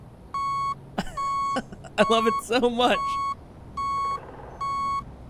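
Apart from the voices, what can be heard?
vehicle backup alarm beeping on a rover in Space Engineers video game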